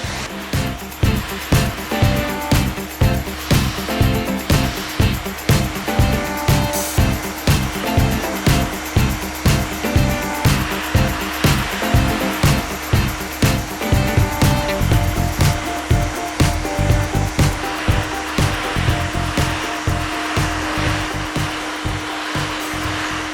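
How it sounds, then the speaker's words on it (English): A hair dryer blow-drying hair runs steadily and loudly throughout, its roar pulsing in a fast regular rhythm as the airflow is moved through the hair, with no talking. "The ends are going to kind of air dry as we're blow drying"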